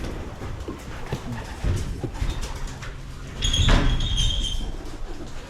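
Breeder pigeons cooing in a loft, their low murmuring calls close and steady, with a brief sharper rustle or call partway through.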